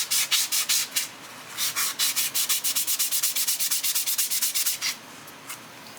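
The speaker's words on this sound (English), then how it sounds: "I'm thinking if I use a sanding sponge" A sanding sponge rubs back and forth across the frets of a seven-string Les Paul-style guitar in quick, even strokes, a steady run of close, scratchy swipes that quickens midway and stops near the end.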